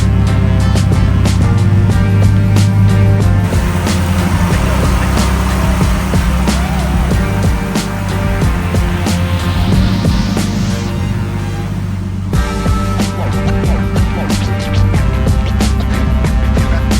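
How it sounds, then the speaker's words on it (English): A turbocharged BMW M52B28 inline-six in an E36 idles steadily while warming up on a cold day, a continuous low engine hum with faint mechanical ticking and no talk over it. "right now, you guys can tell, car is warming up."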